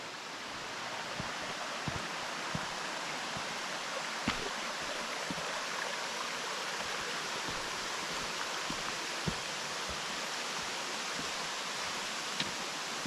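Water flows steadily into a swimming hole along a river, a continuous even hiss of moderate loudness with occasional faint splashes and ticks, and no voices.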